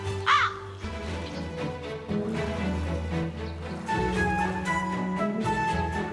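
Crows caw in an animated animal cartoon: one sharp, loud caw at the start, then layered harsh calls over a steady background of music and ambience.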